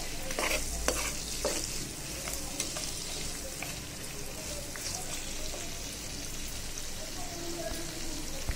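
Ground and dry spices fry in oil, a soft, quiet sizzle with frequent scraping stirs of a spoon against the pan.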